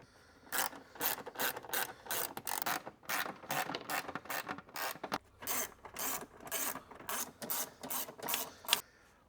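Screws are driven into the driver and passenger vents of a Firebird during an interior rebuild, heard as close, rhythmic ratcheting clicks in quick bursts with short pauses between them.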